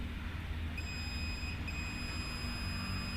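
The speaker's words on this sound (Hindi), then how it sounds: "और बजर बज गया, इसका मतलब ठीक है शॉर्ट" Continuity buzzer of a multimeter sounding as its probes short directly together, a steady faint electronic tone over a constant low hum.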